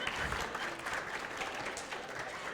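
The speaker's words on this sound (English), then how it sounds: "I missed a good round of applause." Dinner theater audience clapping in a steady, dense wash of applause for a few seconds, moderately quiet and without pause.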